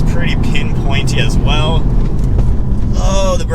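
2023 BMW M2 manual sports car engine heard while driving, a loud continuous rumble with rising and falling revs and gear changes, with someone talking over it.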